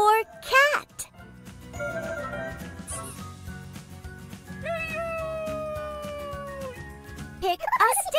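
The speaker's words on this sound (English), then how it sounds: "C is for cat." A cartoon cat gives a couple of long, drawn-out meows in a kids' alphabet cartoon, set among bright music, cheerful sound effects and a voice.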